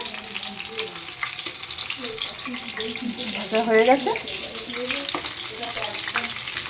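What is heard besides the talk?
chicken pakoras deep frying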